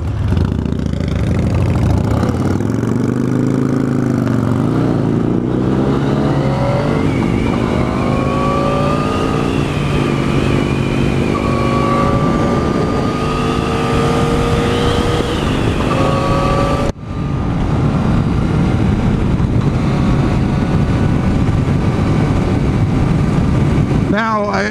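A 2014 Yamaha FZ-09/MT-09 motorcycle drones loud and close while being ridden, rising and falling in pitch with the throttle as a rider talks over it, with a brief dip around the middle.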